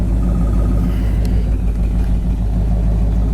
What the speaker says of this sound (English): It's got a nice sounding dual exhaust, nice tips